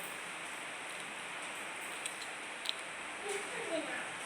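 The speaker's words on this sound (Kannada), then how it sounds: "ಮಳೆ ಬರ್ತಿದೆ" Rain falling steadily on a farm as a continuous even hiss, with a few faint ticks and drips standing out over it.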